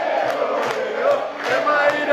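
Football fans in the stands at a Palmeiras match chant in a loud, rhythmic crowd roar, the voices merging into pulsing, beat-like surges heard from within the stadium.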